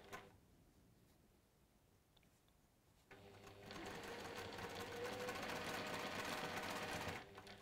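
Close, fairly quiet sewing machine sewing along interlocking seams, a soft idle for a few seconds, then a steady continuous whirring run of stitching that stops abruptly near the end.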